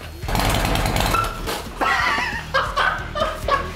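A built Harley-Davidson Twin Cam 131ci motorcycle, all motor and loud, idles with a heavy rumble, then lugs and bogs hard as its clutch is popped in first gear, the engine stumbling and dying out in uneven bursts.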